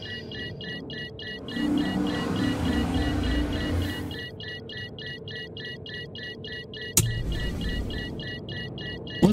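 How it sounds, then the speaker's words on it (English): Spacecraft landing gear in a video game cycling repeatedly between retracted and deployed, with a steady series of synthetic beeps pulsing over a low mechanical hum and one sharp clunk near the end. "Landing gear retracted. Landing gear deployed."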